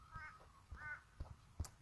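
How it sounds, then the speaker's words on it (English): Crows caw outdoors in a short series of harsh calls, moderately distant and faint, with no one speaking over them. "listen to all this beautiful bird sound that is here"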